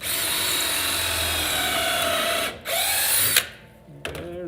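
A power drill drilling holes in a wooden board whirs steadily at close range, briefly stops, spins up again, then winds down with a short final burst.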